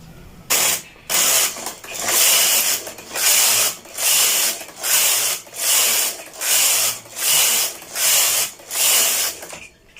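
A domestic knitting machine's lace carriage is pushed back and forth across the needle bed, making about ten regular rasping, whirring passes, each a loud mechanical sweep separated by brief pauses, close by and without talk.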